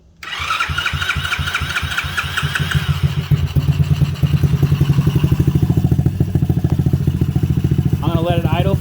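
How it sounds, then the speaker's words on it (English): A 2022 Icebear Champion motorcycle engine cranks and catches, then settles into a steady, rapid, loud idle thumping nearby, with a short spoken voice near the end. "I'm going to let it idle for a little bit longer."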